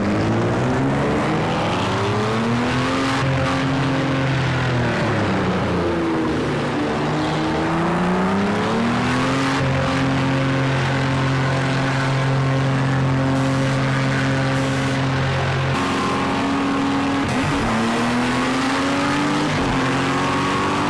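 Sports car racing engines in the Project Cars 2 video game at Circuit of the Americas in Austin, Texas, a loud continuous whine rising and falling through gear shifts, with several cars audible together for the full length and no speech.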